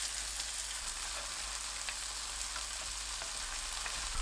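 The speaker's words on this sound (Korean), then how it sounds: "불 끈 상태로 들기름 1큰술, 진간장 1큰술 넣고 팬을 통째로 흔들어 주세요." Tofu frying in a pan with perilla oil and soy sauce added off the heat, giving a steady, fairly quiet close sizzle with faint crackles throughout and no talking.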